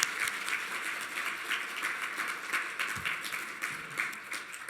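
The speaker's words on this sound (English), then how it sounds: "Can we all give them a round of applause?" Applause from a conference audience at Rock from the Heart in the St. Paul Hotel, Minnesota, heard as a fairly faint, steady wash of clapping with no voices.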